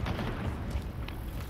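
A frag grenade goes off in a Call of Duty video game, a deep, rumbling boom that rolls on under dense battle noise.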